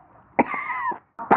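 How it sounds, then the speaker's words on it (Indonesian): A woman coughs in a short burst indoors, two rough, close coughs separated by a brief pause, clear and fairly quiet with no talk over them. "Bu, Ibu kok batuk-batuk gitu sih?"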